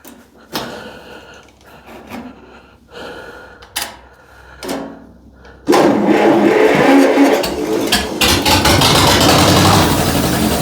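A tractor engine with the choke pulled out cranks in several short bursts with pauses, then catches and runs steadily at a loud, rough roar for the rest of the clip.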